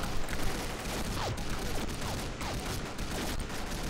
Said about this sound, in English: If it only takes 3 shots to kill a zombie, this burst fire.